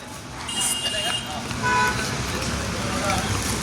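A vehicle horn toots on a road near the parking area at Raigad fort, with engine and traffic noise rising as the vehicle draws closer. People talk nearby.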